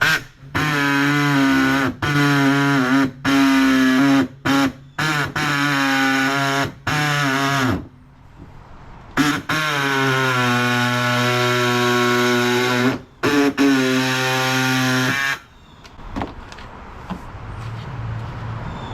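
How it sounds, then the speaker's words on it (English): An air saw cutting through a Honda Civic's car bumper to make room for a muffler, a loud, high, buzzing whine that runs in long bursts with short stops, then cuts off to quieter clatter at the end. "So we've got our little air saw here. We're gonna go ahead and cut along the line that we just made"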